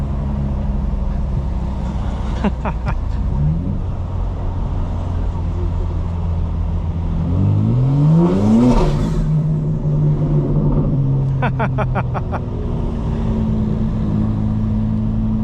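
A 2025 BMW M4 Competition xDrive engine revs and pulls hard at night, rising in pitch as it accelerates, with a deep rumble underneath and a couple of sharper bursts.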